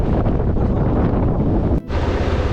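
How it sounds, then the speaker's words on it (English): Strong wind on the Pamir Highway buffets the microphone in a loud, constant roar, cutting out for a split second before the gusting rumble returns. "she's getting windy now."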